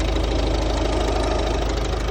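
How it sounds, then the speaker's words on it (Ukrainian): A 2012 Ford Focus 1.6-litre engine idles steadily with a low, even rumble and faint rhythmic ticking, continuous and close throughout. "Показую роботу двигуна."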